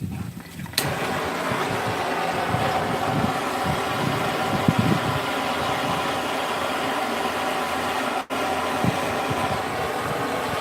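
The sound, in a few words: strong cold wind blowing outdoors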